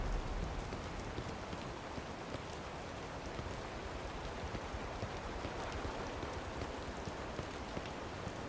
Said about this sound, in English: Looks like it's gonna rain again. Probably another storm.